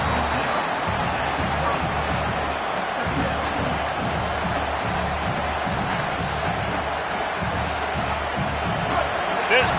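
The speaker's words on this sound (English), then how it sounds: "This crowd trying to make life miserable for this offense." A stadium crowd roars loudly and steadily throughout a College Football 27 game, a dense wash of cheering with a low droning undertone pressing on the offense.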